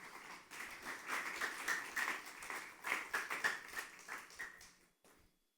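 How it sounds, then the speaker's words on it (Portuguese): A church congregation gives a round of applause during a sermon, a moderately distant burst of many hands clapping that swells, holds for a few seconds, then fades out. "Dê uma salva de palmas a Ele"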